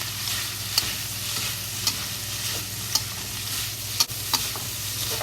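Carrots, green pepper and shredded wood ear mushroom stir-frying in a pot, a loud steady sizzle with a spatula scraping and knocking against the metal roughly once a second.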